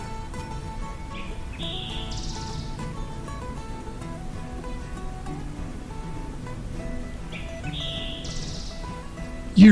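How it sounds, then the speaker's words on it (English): A suspected eastern towhee singing in the Hickory Creek Wilderness Area, two short bright phrases several seconds apart, heard at moderate distance over a soft background hum. "I now strongly suspect it was an eastern towhee"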